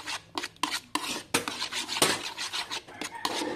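Two eggs are beaten in a bowl with a utensil ahead of cooking with tomato and eggplant, making fast, close clinking and scraping strokes in an uneven rhythm, with no talking.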